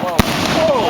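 Fireworks burst outdoors in one sharp broadband crack, followed by whistling, descending tones as more pyrotechnics fly and fade, with people talking and reacting over the display.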